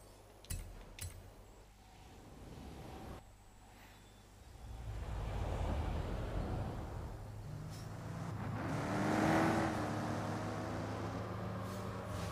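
A modified Honda's engine in the racing game Forza Horizon 5 hums low, then swells louder and climbs in pitch as the car speeds up, with a few sharp ticks near the start.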